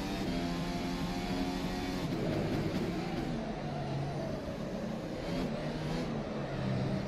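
Formula race car engine pushed hard around Silverstone in the rFactor 2 sim, a development car from Formula SimRacing 2018; a loud, continuous high-revving drone with pitch rising and falling through gear changes and cornering.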